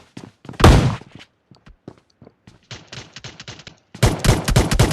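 Bursts of gunfire in the mobile battle royale game PUBG Mobile, a heavy blast early on, then a run of rapid sharp shots and a dense loud volley at the end.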